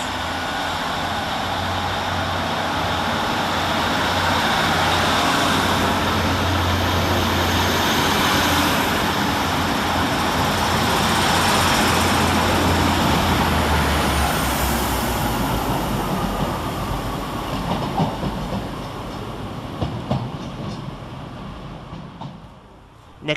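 Northern trains run through Bolton railway station in thick fog, a sustained loud rumble and hiss of rolling stock that builds, holds for many seconds, then fades toward the end.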